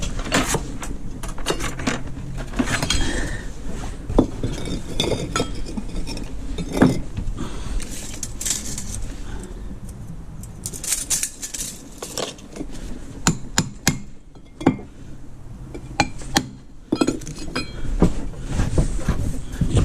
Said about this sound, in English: Get my hammer and bolster.